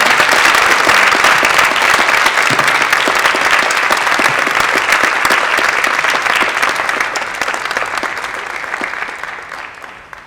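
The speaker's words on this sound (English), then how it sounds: "Can we give a round of applause for Salamishah Tillet?" Sustained, loud applause from an audience at an evening literary festival ceremony, a dense wash of clapping that holds steady for about ten seconds before gradually tapering off.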